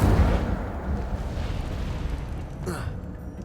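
The Incendio fire spell in Hogwarts Legacy erupts with a heavy whooshing burst that fades into a rumbling, crackling roar, ending with a brief bright flare.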